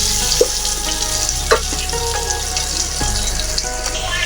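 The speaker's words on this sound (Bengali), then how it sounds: "আলুটা তেলের মধ্যে হালকা ভাজা ভাজা হয়ে গেছে" Steady oil sizzle of food frying in a pan, with a few soft stirring scrapes and clicks over the continuous hiss.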